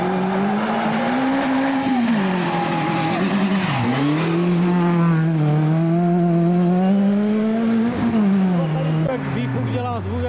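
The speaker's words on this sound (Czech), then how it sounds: "Tak výfuk dělá zvuk jak kráva." A rally car engine roars close by during a stage of the 2022 ADMV Lausitz Rally, its exhaust note revving up and down repeatedly with a loud, droning pitch.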